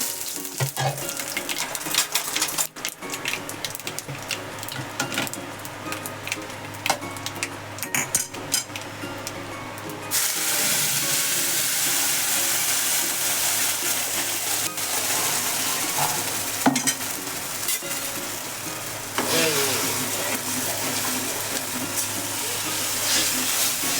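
Mustard seeds, cumin, curry leaves and green chillies are tempered in hot oil in a home kitchen, giving a steady close sizzle with stirring scrapes that swells into a louder, brighter hiss partway through and keeps going.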